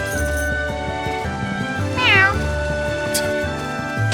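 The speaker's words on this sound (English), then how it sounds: "is that a cat?" A cat meows once in The Adventures of Elliot: The Millennium Tales, a short bright call rising over steady layered game music and ambient tones.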